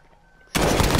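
A sudden loud burst of automatic gunfire from a gun in Call of Duty Warzone starts halfway through after near silence.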